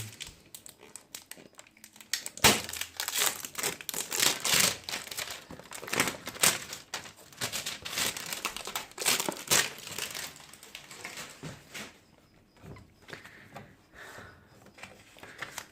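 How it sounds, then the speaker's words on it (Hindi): Packaging crinkles and rustles up close while a QMobile F2 phone is unboxed, with irregular bursts of plastic and cardboard handling that quiet toward the end. "अब आइए हम इस हैंडसेट को अनबॉक्स करें"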